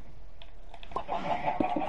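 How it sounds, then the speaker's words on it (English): A Minecraft chicken gives a few short clucks in quick succession, close and clear over faint background noise. "And I heard a chicken cluck."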